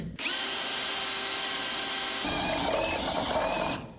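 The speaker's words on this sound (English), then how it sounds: "Be here spot drilling to the damn 5th Sunday." A power drill bores out spot welds on a 1976 GMC truck's patch panel area, one continuous loud whirring run of about four seconds whose pitch shifts partway through as the bit bites into the metal, with no voices.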